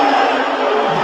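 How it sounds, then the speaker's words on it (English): A large stadium crowd boos in a loud, continuous roar of many voices that holds steady without breaks for the whole moment. "Sounds like booing to me."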